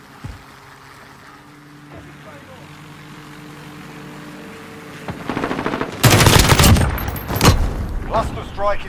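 Call of Duty gunfire bursts in loudly after a quieter stretch of low hum and faint background noise, with rapid automatic fire in several close, sharp volleys.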